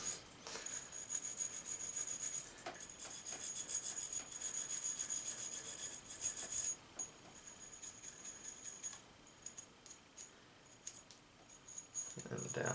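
Close, steady bristle scrubbing around the feed ramp of a Ruger P95 pistol during cleaning, a continuous raspy brushing that pauses briefly and then resumes in short strokes.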